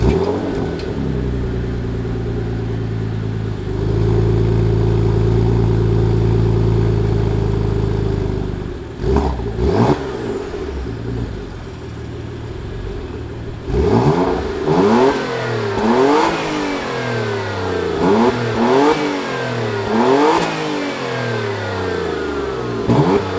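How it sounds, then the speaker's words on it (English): A 2018 Porsche Macan S cold-starts with a loud, throaty exhaust roar that holds a steady high idle, then settles into repeated sharp revs and blips close by, with no talking. "2018 and earlier Macans actually still have that really nice cold start and, you know, the really throaty exhaust"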